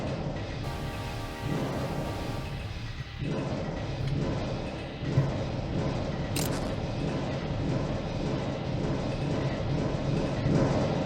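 A train in the video game Dead Horizon rolls on with a constant, broad rumble and hiss, broken by a brief click near the start and a short sharp burst midway, with no speech.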